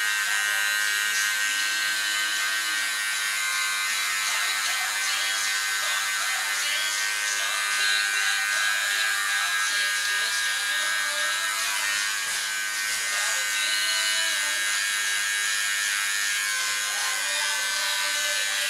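Electric hair clippers buzz steadily and close for the whole stretch while outlining a man's neckline during a home haircut, with a brief faint voice in the background.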